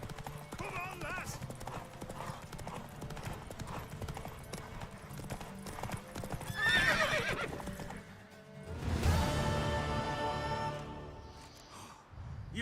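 Horse hooves clip-clop steadily in The Witcher 3, joined by a whinnying neigh partway through, with a voice speaking over the galloping and music-like tones in the background.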